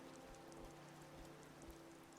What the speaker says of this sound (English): but oh, it's a rainy day